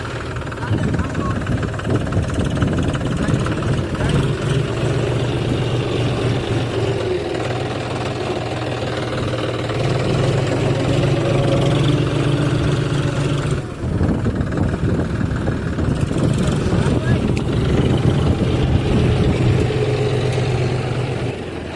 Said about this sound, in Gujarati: તમારો ટ્રેક્ટર નથી મારુ ટ્રેક્ટર હે